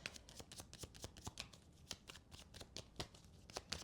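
A deck of tarot cards being shuffled by hand, with quick, steady riffling and soft flicks repeating close up for several seconds, with no talking.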